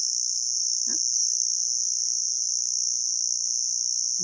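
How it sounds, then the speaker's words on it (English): Great Australian summer cicada droning steadily and loudly throughout, a continuous high-pitched buzz, with a brief low thump and a chirp partway through. "That's a cicada in the background."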